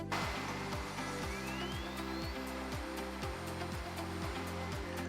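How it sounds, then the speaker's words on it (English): An AXYZ Pacer 4008 ATC CNC router uses a 12mm twin-flute ball nose cutter to cut grooves into the back of 4mm ACM panel. It gives a loud, steady airy roar with a repeating stepped pulse, continuous throughout and unaccompanied by voices. "First, the grooves are cut into the back of the ACM. This is done using a 12mm twin flute ball nose cutter."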